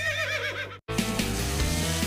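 A horse whinnies in a radio advert for a farm and ranch supply store. The call is loud and close, with a wavering, descending neigh, then a brief silence before a second burst of whinnying.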